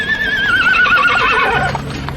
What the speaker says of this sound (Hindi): और चुपचाप कोच पर सवार हुआ और घोड़े चल पड़े